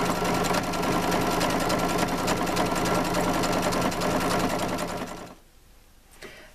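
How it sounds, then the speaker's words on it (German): Sewing machine running a triple straight stitch close along the edge of a reversible beanie: a steady, close mechanical whir for about five seconds, then it stops and goes quiet. "ich nehme jetzt einen dreifachen Geradstich, einmal hier unten der Rand knappkantig abgenäht"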